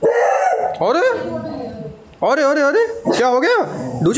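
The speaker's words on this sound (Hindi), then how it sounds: "कुत्ते भौंक रहे हैं वहाँ" Dogs bark, yip and whimper close by in short, excited bursts, with a person talking over and between the calls.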